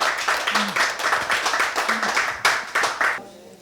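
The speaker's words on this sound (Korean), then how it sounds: "우리 덕연 선생님께 박수 한번 보내실까요?" At a humanities lecture, a small audience claps together in fairly slow, rhythmic, distinct hand claps that stop after a few seconds, close and moderately loud.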